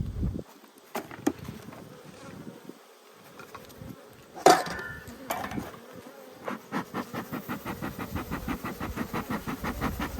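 Honey bees rob leftover honey from a bucket outdoors at an Australian apiary, a soft, close buzzing that swells and pulses with scattered clicks and knocks around it.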